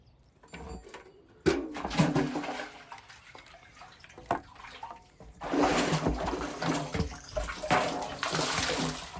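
Embroidered laundry washed by hand in a basin with cold water, sloshing and splashing close by with intermittent knocks, growing into steady louder swishing water toward the end.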